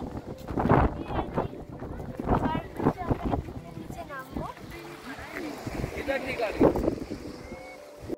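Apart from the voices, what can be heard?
strong cold wind blowing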